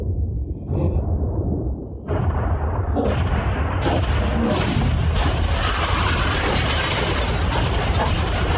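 A yacht blown up by explosives sets off a loud stack of booms, with several blasts landing in quick succession before merging into a sustained roaring, crackling rumble that fills the scene.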